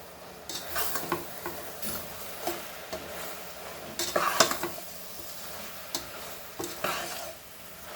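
A spoon stirs Bafat masala frying in a pan for Goan chicken Bafat curry, with intermittent metallic scrapes and knocks against the pan over a soft, continuous sizzle.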